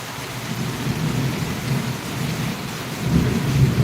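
Heavy rain pours steadily in Valliyur, with a deep, continuous thunder rumble swelling louder near the end under the dense hiss of falling water.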